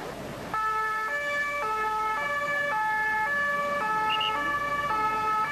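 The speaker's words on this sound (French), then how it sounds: "coups de sifflet, sirène" A loud two-tone emergency siren wails close by in a steady alternating pattern after a bomb explosion in central Paris in August 1995. It continues unbroken over low street background noise.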